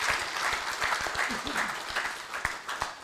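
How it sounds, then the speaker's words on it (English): Audience applause at an agricultural symposium, with distinct claps standing out over a softer crowd wash, moderately distant and fairly quiet, and some voices mixed in. "let's give these people a round of applause"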